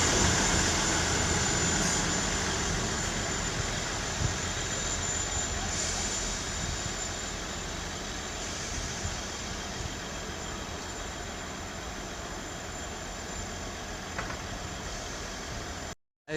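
A Class 159 diesel multiple unit pulls out of Bath Spa station with a steady, fairly faint engine drone and rumble that holds throughout, then cuts off abruptly at the end.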